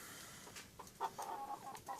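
A backyard flock of chickens, likely including roosters, makes faint, soft clucks and short murmuring calls, a few scattered notes at a moderate distance with no talk.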